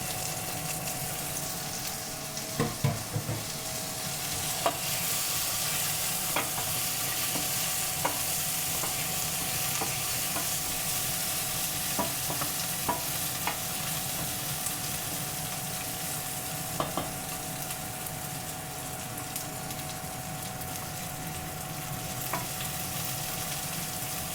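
Curry leaves and green chillies fry in hot oil for a tomato rice, a steady close sizzle with occasional sharper crackles and pops throughout, no voices.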